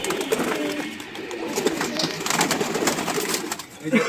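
Pigeons coo in low, throaty bursts amid a busy, noisy background with some murmuring voices nearby.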